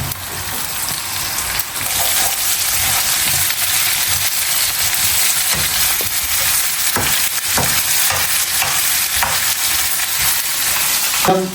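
Garlic and green chili sizzle steadily in hot oil while devilled prawns are prepared, a continuous close frying hiss with occasional stirring clinks and scrapes, no talking.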